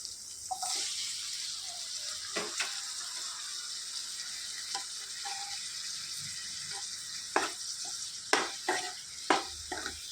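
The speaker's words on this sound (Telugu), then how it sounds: "ఉల్లిపాయలు అనేవి బాగా వేగిపోయాయి ఇందులోనికి సన్నగా తరిగి పెట్టుకున్న టమాటా ముక్కలు వేసుకోవాలి" Onions and finely chopped tomato pieces frying in a pan for broad bean curry, a quiet continuous sizzle with scattered clinks and scrapes of a spoon, close by.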